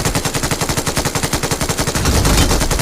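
Rapid automatic gunfire from a weapon in the mobile battle royale game PUBG Mobile, a steady loud stream of evenly spaced shots with a heavier burst near the end, no voices.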